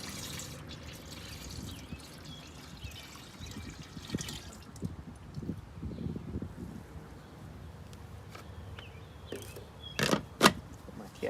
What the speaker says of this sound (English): I'm gonna go ahead and just pour this mixture in my sprayer